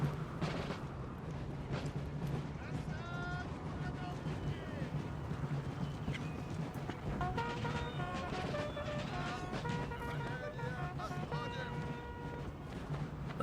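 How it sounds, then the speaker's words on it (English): Artillery fire in a large Napoleon Total War battle at Borodino: distant cannon booms and a rumbling battlefield din run throughout, with layered game effects and someone talking over it. "right now it's just mostly artillery dueling it out"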